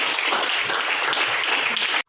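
Classroom audience applauding a student group after their presentation, a dense, steady wash of clapping that runs for about two seconds and then cuts off abruptly into silence.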